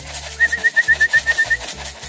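Young homing pigeons coo in a soft, rhythmic series of low pulsing calls, close and clear, with a thin steady whistle above them and no talking.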